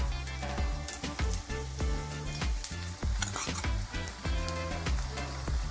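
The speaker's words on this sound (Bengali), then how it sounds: "নারকেল আমাদের ভাজা হয়ে গেছে।" Grated coconut, part fresh and part dry, frying in a pan with a steady close sizzle, broken by repeated scraping strokes of a stirring spoon in a loose rhythm.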